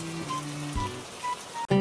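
Cartoon rain falls as a brief, steady patter under light tonal music, ending with a sharper sound.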